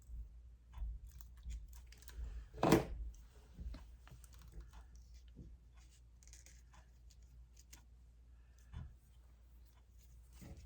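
Scissors make one crisp, close cut through a film strip for a scrapbook layout, followed by quiet handling and faint rustling in a hushed room with no talking.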